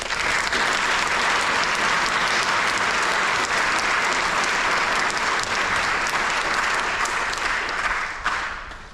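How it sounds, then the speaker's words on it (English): Sustained audience applause at a Clearview Day of Remembrance ceremony honoring a VFW post member, a loud, dense clapping crowd that holds steady and then tapers near the end. "Please help me in giving a round of applause for Mr."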